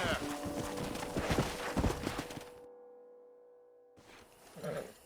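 Horse hooves clip-clopping in the video game Red Dead Redemption, a brisk irregular patter of hoof strikes that stops abruptly, then briefly resumes, with someone speaking over parts of it.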